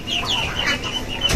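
A crossbred rooster in a poultry flock gives a short run of close, fairly quiet clucks, with a brief louder sound at the very end.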